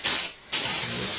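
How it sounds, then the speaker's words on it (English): Contact adhesive sprays from an aerosol can onto a cabinet edge during a kitchen oven cabinet conversion: two loud, close hissing bursts with a brief dip in between. "Spray the contact glue on there."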